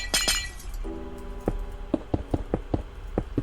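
A glass block shatters in Minecraft with a bright crash, followed by a string of sharp clinking taps and small breaks at irregular intervals.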